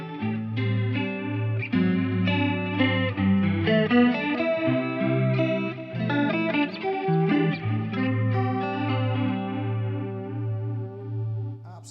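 Electric guitar played through a Boss CE-2W set to chorus, ringing out sustained, warm, shimmering chords and single notes, loud and close with no voices.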